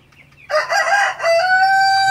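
Fourteen-day-old broiler chickens are being weighed on a digital scale. One bird lets out a loud, close, strained squawking call that breaks briefly and then carries on for about a second and a half.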